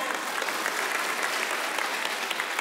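A church congregation clapping hands during a service, a steady, even wash of many claps sustained at moderate loudness from start to finish, with no one talking over it.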